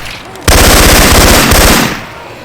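Loud rapid automatic gunfire using Syphon Filter weapon sound effects in Left 4 Dead 2, a dense burst of shots lasting about a second and a half, close and dominant.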